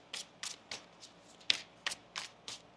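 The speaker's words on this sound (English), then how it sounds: "Let's get one more shuffle here." Tarot cards being shuffled up close, heard as a series of about eight short, crisp riffling bursts at a fairly even pace, with no speech.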